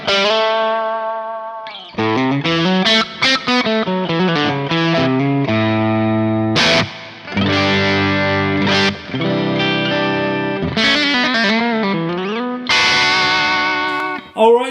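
Guitar played through a Neunaber Immerse reverb pedal with the wet control at noon, a sequence of loud, sustained, heavily washed chords and single notes that bloom and trail off, with a few short gaps.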